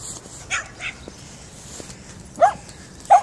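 A dog in Perrett's Park, Bristol, barks and yips a handful of times, the last two loud and close, with quieter whimpering sounds earlier in the outdoor scene.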